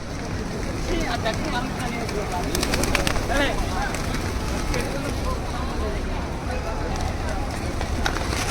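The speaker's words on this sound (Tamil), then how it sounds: "ஐயா இவ்வளோ புறாக்கள், நூற்றுக்கணக்கான புறாக்கள் இருக்குது" Hundreds of pigeons gathered at Batu Caves, Malaysia, make a dense, continuous bustle of cooing and fluttering wings over a busy outdoor background, steady throughout.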